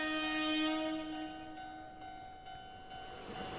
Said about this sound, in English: There goes that train again.